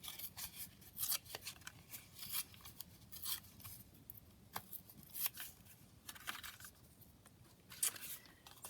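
Paper torn by hand around cut edges while making junk journal ephemera, a quiet close series of short irregular ripping and rustling bursts with pauses between them, no speech.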